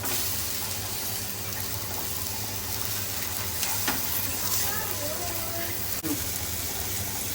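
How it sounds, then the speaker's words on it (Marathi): Bombil fish shallow-frying in a pan makes a constant, fairly quiet sizzle, with a faint scrape or clink near the end. "आता आपले बोबील फ्राय झालेले आहेत"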